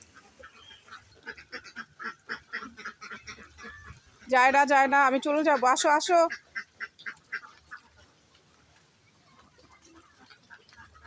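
Ducks on a rain-soaked farm burst into a loud, dense flurry of quacking and honking for about two seconds, standing out over steady rainfall while a person talks before and after.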